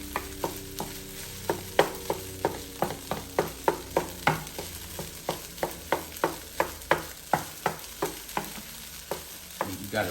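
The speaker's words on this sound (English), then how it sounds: "Chop that all up and nice and good in there" Bacon fried rice being chopped and stirred with a utensil in a Power XL electric cooker, a steady run of sharp scraping taps over a low background sizzle, close and fairly quiet.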